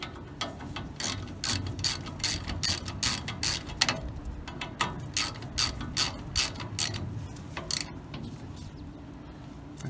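A ratchet tightens the top 14mm bolt on a Crown Vic front brake caliper fitted to a 1936 Chevy coupe: bursts of rapid, close clicking with short pauses between strokes, no talk.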